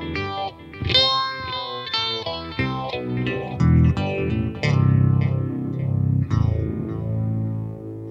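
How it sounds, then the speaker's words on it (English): An electric guitar plays notes through a Peavey Vypyr Tube 60 amp with a delay effect, each phrase repeating in fading echoes that blur into a washy, chorused tone. "So if we just bring a little bit of delay in, bring the level up, set the feedback how we wish"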